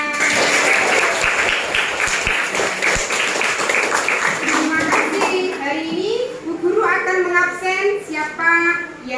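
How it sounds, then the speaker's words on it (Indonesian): A primary school class of fifth graders claps hands in a classroom during a religious studies lesson, brisk group clapping at first that fades as a teacher's voice and children's voices take over. "Tepuk tangan untuk semuanya"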